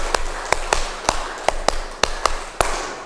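A group in an Indonesian teacher-training classroom claps a rhythmic pattern, sharp distinct claps falling in quick pairs and singles, about nine in all, with no talk over them.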